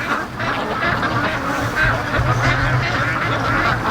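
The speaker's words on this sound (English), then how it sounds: "Oh, I see a goose." A goose honks repeatedly near a creek and lake among free-range ducks, with overlapping honks and quacking calls, fairly loud and nearby, continuing over steady outdoor background noise.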